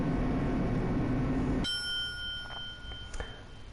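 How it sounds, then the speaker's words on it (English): A kitchen timer rings in the game Danganronpa, a bright metallic bell-like chime starting sharply partway through and ringing on steadily after a louder buzzing hum cuts off, with a few soft clicks near the end. "That was the sound of a kitchen timer"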